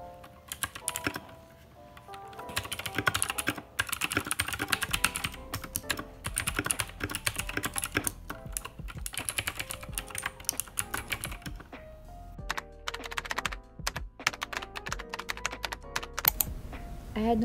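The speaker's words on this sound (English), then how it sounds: "And here's some typing ASMR." Steady, fast typing on a wireless keyboard, with close, crisp key clacks in continuous bursts and brief pauses, sustained throughout.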